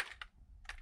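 Keys on an Atari STE 1040 computer keyboard are pressed, giving a few soft, close clicks spaced unevenly in a quiet room.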